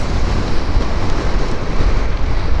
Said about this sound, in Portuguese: Nossa, que ventania, rapaz.